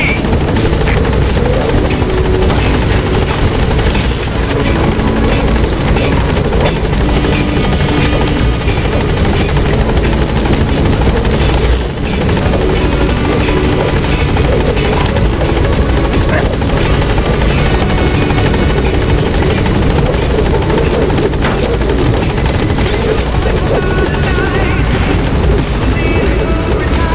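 The Pequod helicopter from Metal Gear Solid 5 flying, a loud, continuous rotor thrum and engine whine that holds steady the whole time with no pauses.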